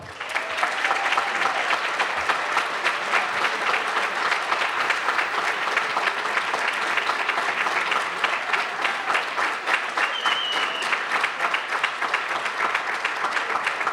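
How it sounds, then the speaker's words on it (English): Sustained, dense applause from a large banquet audience at an awards ceremony honouring CERT volunteers, steady and loud throughout with no talk over it. "let's give them a huge round of applause"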